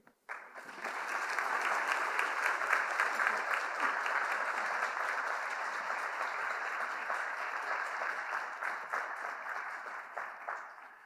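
Audience at a civic engagement forum bursting into applause, a sudden start followed by loud, dense, steady clapping that holds for about ten seconds before easing slightly at the end.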